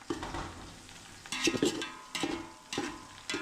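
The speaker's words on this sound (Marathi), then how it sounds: "थोडा मिरच्या फ्राय करून घेऊ." Green chillies and whole spices fry in oil in a biryani pot with browned onion, a close sizzle punctuated by a few short stirring scrapes.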